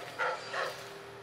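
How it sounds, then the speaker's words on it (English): Dog in the video game Dishonored giving two short barks, somewhat distant and muffled over a low game-world hum. "I heard dog bark."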